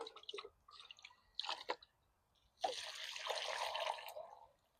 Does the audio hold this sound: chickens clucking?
no